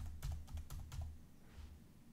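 Close, crisp clicks from a computer keyboard as Alt and arrow key shortcuts are pressed in the 10x code editor, four or five quick keystrokes in a row, then quiet room hum.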